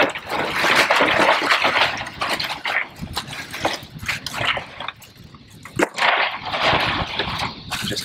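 River water pours and gushes into an esky cooler on a crab-catching outing, a steady splashing, filling rush that swells and eases in waves, close up, with no talking.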